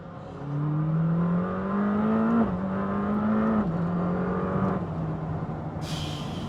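Lamborghini Temerario V8 accelerating hard, a loud close engine note climbing in pitch through two gear changes with brief dips, then settling as a sharp hiss cuts in near the end.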